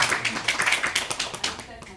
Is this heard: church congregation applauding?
yes